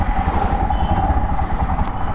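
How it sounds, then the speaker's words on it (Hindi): A Royal Enfield Himalayan motorcycle rumbles steadily at a dealership parking lot before a test ride, its low engine drone close and continuous with no speech over it. "Time to test ride the Himalayan."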